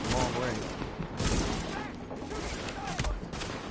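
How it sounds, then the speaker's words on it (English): Gunfire in The Division, including shotgun blasts fired from long range, crackling in bursts over a busy, dense mix of game noise with voices faintly present. "the guy shoots a shotgun from long range"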